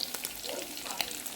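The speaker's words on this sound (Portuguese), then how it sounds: "agora eu tô aqui fritando, meus amores, no óleo" Meat sizzling and crackling steadily in hot oil in a home kitchen, with dense, continuous spitting and occasional pops, close up.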